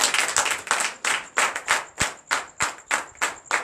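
Night deliverance and prophecy service with an audience clapping in a steady rhythmic beat, evenly spaced strong claps repeating about three times per second, loud and close with no talk.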